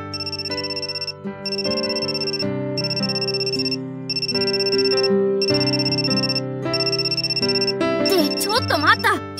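Phone ringtone from the visual novel game Amnesia: Memories, a steady repeating electronic melody with bright tones ringing for several seconds, loud and alone, ending in a burst of rising sweeping chimes.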